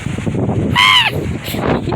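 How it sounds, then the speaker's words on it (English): A seagull on a beach lets out one loud, ringing squawk, drawn out for about a third of a second, above a steady bed of outdoor background noise. "Yo, these seagulls are gonna attack me."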